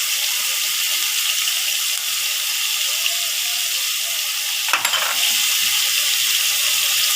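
Ginger and garlic paste frying in oil for a thin chicken curry, a constant bright hiss of sizzling with a brief louder splutter midway.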